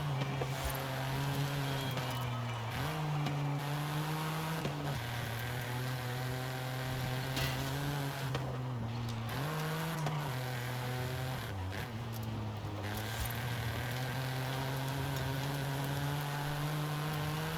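A Ford Fiesta hot hatch is driven in Forza Horizon 5, its engine droning steadily with the pitch rising and dipping as the driver shifts gears and moves through corners, loud and continuous with no voices.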